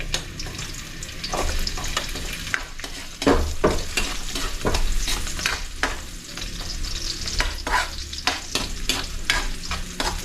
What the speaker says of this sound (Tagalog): Lagyan po natin ng mantika. Ilagay na itong bawang, luya